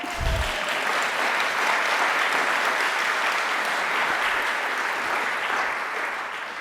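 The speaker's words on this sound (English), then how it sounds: "Now you can clap." Sustained applause from an audience at the Library of Congress Prize for American Fiction event, a dense, loud, continuous clapping that holds steady and tapers slightly at the end.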